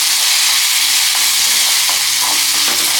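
Steady stirring of salted rice in a hot pan on a stove, a continuous close sizzling frying noise with faint scraping of the spoon, no talking.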